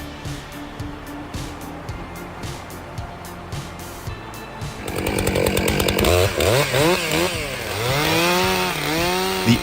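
Stihl MS661C chainsaw cutting ash wood, engine idling with rapid ticking and then revving hard into the cut, loud and close, with rising and falling pitch as it bites.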